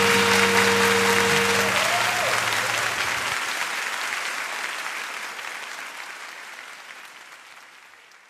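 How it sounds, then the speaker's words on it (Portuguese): Pentecostal church congregation applauding during worship, a broad steady wash of clapping that begins over a fading sustained keyboard chord, then slowly thins and dies away. "aplauda ao Senhor Jesus."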